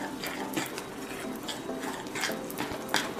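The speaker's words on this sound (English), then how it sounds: "mix it out well until it's nice and smooth" Beer batter for fish fillets being mixed in a bowl until smooth, with a steady wet stirring and scraping patter of utensil against the bowl, close and continuous with no talk.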